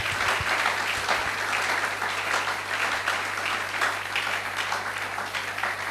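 Church congregation applauding and cheering for the Lord during a Sunday worship service, sustained dense clapping with steady loudness throughout and no pauses.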